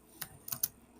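Computer keyboard typing into ChatGPT: four quick, crisp key taps close by, spaced irregularly over about a second, with no talk.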